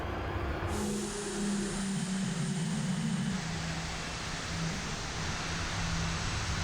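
A Lilium electric jet aircraft on a flight test takeoff gives a constant broad roaring rush with a low droning hum underneath, steady and loud throughout with no pauses.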